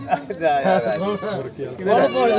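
Goats bleat in wavering, drawn-out calls at a busy livestock market in Faridkot, Punjab, mixed closely with people talking nearby.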